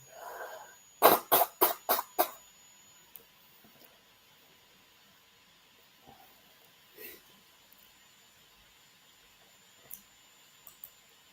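Someone blows their nose up close in a quick run of five short, forceful blasts, followed by near silence broken by a few faint, scattered noises.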